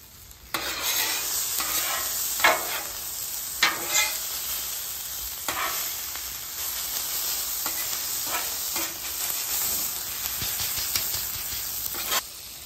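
Ham sizzles on a flat-top griddle beside breakfast sandwich fixings, a constant hissing fry punctuated by sharp spatula scrapes and taps, close and fairly loud, with no talk.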